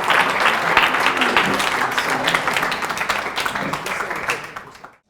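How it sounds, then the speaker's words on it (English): A conference audience applauds two speakers steadily with dense clapping, holding strong before fading out at the end. "Can we get a round of applause for both speakers"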